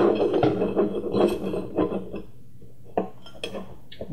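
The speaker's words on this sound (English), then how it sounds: "take the camera and place it onto the bracket while pulling the cable through at the same time" A 700TVL vandal-proof dome CCTV camera is fitted onto its wall mount bracket, producing a cluster of close plastic and metal clicks, scrapes and rattles, then quieter isolated knocks.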